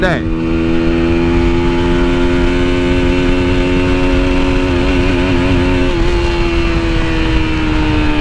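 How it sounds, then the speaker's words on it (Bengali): Lifan KPT 150 4V FI motorcycle accelerating hard in third gear on a road, a loud close engine drone whose pitch climbs steadily and then levels off, with knocking noted near top speed and steady wind roar. "যেই সময়টা নব্বই উঠছে ওই সময়টা ইঞ্জিন প্রচুর নক করতেছিল"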